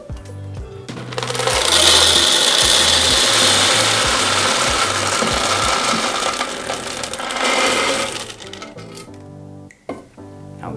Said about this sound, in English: So we're going to insert these in. It's going to get a little loud.